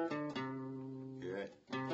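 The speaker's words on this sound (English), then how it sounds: "Now, C Lydian sounds like this." A C Lydian mode scale played as a run of sustained harmonic notes, close and clear, each tone held before the next, with no voices over it.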